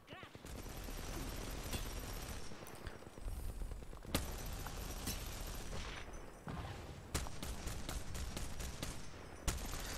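Automatic weapon fire in the video game Apex Legends: long sustained bursts of rapid shots, loud and close, broken by short pauses and a few single cracks, with players' voices talking under the shooting.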